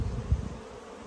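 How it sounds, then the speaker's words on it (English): Honey bees swarm over sticky honey cappings, giving off a close, low buzzing hum that swells briefly and then fades over about a second, with no one speaking. "So you can see the bees are really wanting to clean that up."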